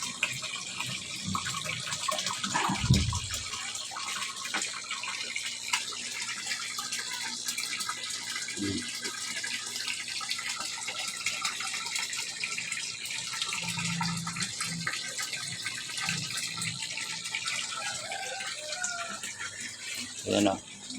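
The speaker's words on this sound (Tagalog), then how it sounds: "Malakas na yung pump natin dito." Steady broadband rush of water gushing from a strong pump in a backyard tilapia pond, continuous throughout with occasional low thumps and brief voices nearby.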